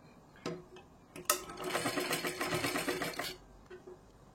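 A sewing machine stitches a blouse with a steady, fast run of needle clatter lasting about two seconds. A few faint clicks and taps come before it, and no one speaks.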